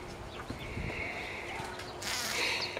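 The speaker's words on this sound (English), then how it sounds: "I want to go in here and see what's up with my bees" Bees buzz around a backyard beehive, a continuous droning hum with louder swells as insects pass close, plus a few faint handling knocks and rustles.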